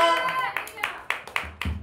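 A church congregation claps in a steady rhythm of sharp, evenly spaced hand claps, following a sung or spoken voice at the start.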